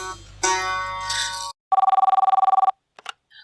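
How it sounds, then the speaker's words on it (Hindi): A telephone rings with a fast trilling electronic bell in one burst, after a short tonal chime and followed by a few soft clicks. "शामा, जरा देखना कोई काम का आदमी हो तो फोन उठा लो, वरना"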